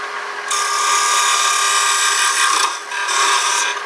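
A spindle detail gouge cuts a hollow wooden Christmas ornament spinning on a lathe, giving a loud, steady, hissing scrape that drops out briefly twice as the tool lifts, with no talking.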